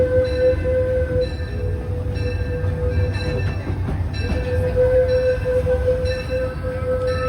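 The Disneyland Railroad train rolls along in motion, a steady close rumble of wheels and carriages with a sustained tonal hum running through, and no talk.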